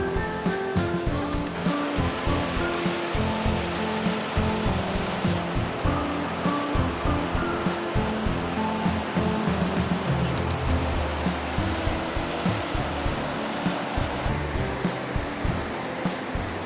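Water pouring from Big Spring, a large spring carrying millions of gallons a day, makes a steady broadband rush close by that holds constant throughout, with no talk over it.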